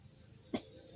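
A single short cough bursts out once partway through, close and fairly loud against a quiet background, with no talking around it.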